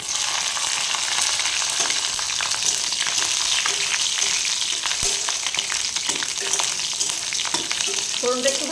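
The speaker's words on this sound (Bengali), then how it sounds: "দিয়ে দিলাম কালো জিরা আর 4 কোয়া রসুন থেতো করে নিয়েছি আর কটা কাঁচা লঙ্কা।" Black cumin, crushed garlic and green chillies frying in hot oil for a methi greens dish, a steady close, loud sizzle with faint stirring scrapes and no talking.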